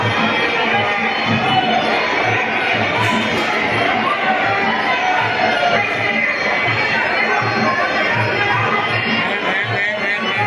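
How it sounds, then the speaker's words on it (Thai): Crowd at a Muay Thai boxing match, a dense steady wash of chatter and shouting voices with some cheering, loud and continuous for the whole stretch under a commentator's talk. "ยอดเดนไรพยายามต่อยมาบนล็อกยังมีเสียงเชียร์นะครับ"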